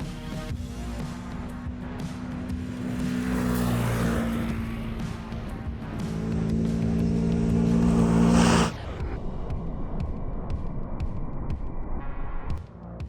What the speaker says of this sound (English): the ATV is sweeping through this dirt, as if it was going on dry ground